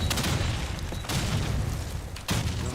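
Call of Duty 2 match audio with a grenade blast among gunfire, loud booming bursts and crackling shots layered over a dense, sustained battle din with sharp onsets near one and two seconds.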